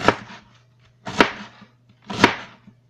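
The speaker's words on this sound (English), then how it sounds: "Cut this up, little thin slices." A kitchen knife slices cabbage into thin strips, three crisp, evenly spaced cuts about a second apart, close and clear with nothing else around them.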